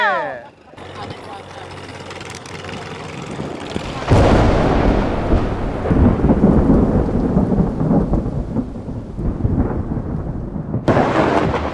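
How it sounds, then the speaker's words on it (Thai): A storm approaches a raft on the sea at Chanthaburi, bringing deep thunder and rain. After a brief voice, a quieter rumbling stretch gives way to a sudden loud, sustained roar of rain and thunder. "ฝนกำลังมา"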